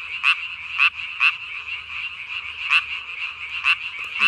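Close, loud rhythmic croaking from a Korean tree frog with a ballooning vocal sac at night, each sharp call repeating about every half second over a constant background trill of more frogs.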